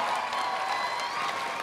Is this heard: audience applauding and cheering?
yes